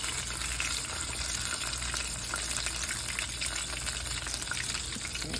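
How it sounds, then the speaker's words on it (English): Chicago-style hot dog egg rolls frying in hot oil, a steady dense sizzle and bubbling that stays loud and even throughout with no talking. "I'm gonna let those fry, and then we're gonna take those out"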